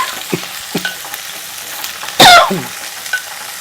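A brief, sharp hiss as tempering spices hit hot oil, surrounded by a few light clinks and scrapes in a pan while cooking pumpkin curry.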